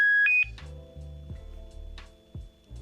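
Beep from the speakerphone button on a pink Motorola RAZR flip phone: a short bright two-tone electronic bleep at the start, followed by quieter clicks and low hum with no talking.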